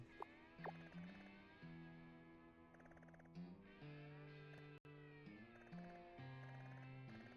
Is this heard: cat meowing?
yes